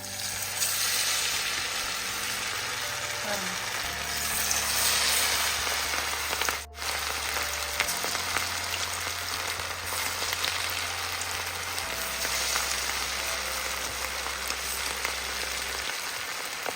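Chicken pieces coated in gram flour batter hiss and sizzle steadily in hot oil for a home-style chicken fry, a continuous close crackle with a low hum beneath and no talk.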